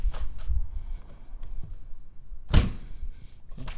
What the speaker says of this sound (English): let's see how the door opens and closes.